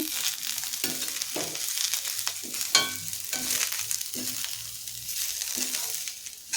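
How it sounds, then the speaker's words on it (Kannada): Coconut rice masala with finely chopped coriander stirred in a hot pan: a soft sizzle broken by rhythmic scraping strokes of a spoon, about one every second, close and without talk. "ಸಣ್ಣದಾಗಿ ಕಟ್ ಮಾಡಿರುವಂತಹ ಕೊತ್ತಂಬರಿನ ಸೇರಿಸಿ ಅದನ್ನು ಇಲ್ಲಿ ಮಿಕ್ಸ್ ಮಾಡ್ತಾ ಇದ್ದೀನಿ"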